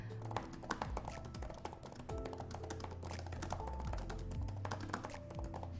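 Rapid, continuous typing on a computer keyboard, dense clattering keystrokes close up and fairly loud over quiet background game music, with no talking.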